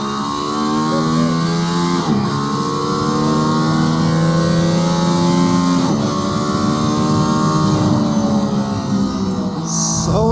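A Mercedes-AMG ONE hybrid hypercar accelerates hard out of the final corner of a track. Its loud engine note climbs in pitch, drops sharply at each gear change and climbs again, repeating across several shifts.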